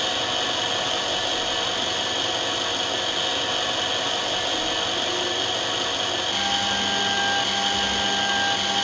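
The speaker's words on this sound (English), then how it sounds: "Press the electric mounting button to start the drill engine." An electric lens drilling machine drills holes in eyeglass lenses, giving a steady high-pitched whine with a constant motor hum that shifts tone slightly near the end.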